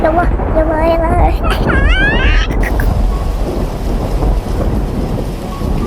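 Heavy rain with thunder in a video game, a steady loud downpour roaring throughout, while voices talk and shout over it in the first half.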